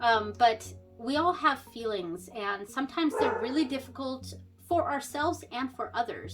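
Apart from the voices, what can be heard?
dog barking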